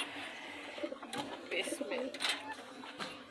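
Pigeons kept in a home cage coo softly in low, repeated murmurs, close by, with a person talking over them throughout.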